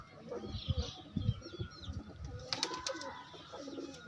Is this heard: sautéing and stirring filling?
no